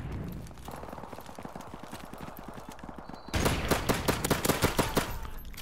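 Pistol shots in Call of Duty: Modern Warfare Remastered, a fast run of sharp cracks that grows louder and more spaced in the final seconds, over steady game background noise.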